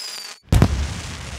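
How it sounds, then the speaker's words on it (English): A cartoon fireworks display for Chinese New Year: a brief whistle cuts out, then a loud booming burst follows and fades into a crackling tail. "What a lovely firework display."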